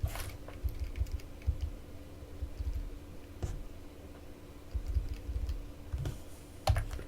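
Close keystrokes clatter on a computer keyboard in uneven bursts, with short pauses between runs of typing and a steady faint hum underneath.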